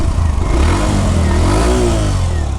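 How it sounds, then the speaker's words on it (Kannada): A Hero Glamour 125cc motorcycle engine revs up close, a loud, continuous throaty drone that rises and falls in pitch through a single throttle swell. "ಸ್ವಲ್ಪ ಇಷ್ಟು ರೇಸ್ ಕೊಟ್ಟರೆ ಸಾಕು ಗಾಡಿ ಹಂಗೆ ಸೌಂಡು ಸಖತ್ತಾಗೈತಿ"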